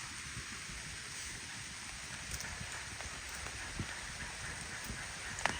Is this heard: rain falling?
yes